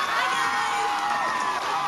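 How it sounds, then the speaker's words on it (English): A television studio audience cheers and whoops, a brief burst of crowd noise with rising shouts layered over clapping, loud and close throughout. "applause, please."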